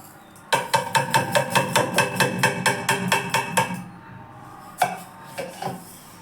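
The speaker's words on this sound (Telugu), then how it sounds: "కాకపోతే గిన్నెలు తోమాను, నైట్ తోమలేదండి, అందుకని ఇప్పుడు తోమాల్సి వచ్చింది" Pots and pans are scrubbed and knocked together in a home kitchen during a morning routine. A quick, regular run of about a dozen loud metallic clanks is followed by a pause and then a few scattered clinks.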